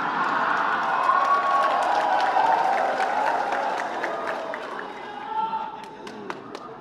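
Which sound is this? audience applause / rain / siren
audience applause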